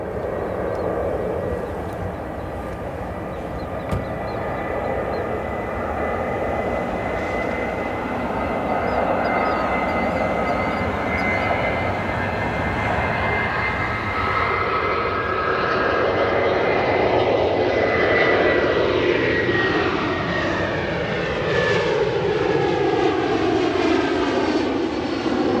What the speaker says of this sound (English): Let's listen to these Rolls-Royce engines.